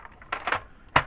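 A paper trimmer slices through craft paper in three quick, sharp cuts, each a brief crisp rasp, close and fairly quiet with no one speaking.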